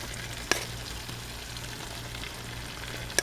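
Cooked rice goes into a pan of chicken and heavy cream over heat, bringing a steady soft sizzle and bubbling with two sharp clinks of a utensil against the pan, fairly quiet and close, with no talking.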